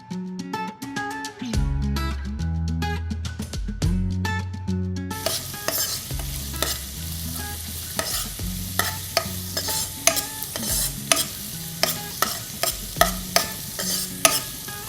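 Ginger and onion fry in a pan, a constant loud sizzle with many sharp scraping and tapping strokes of a spoon, growing busier after the first few seconds, heard close with no talking.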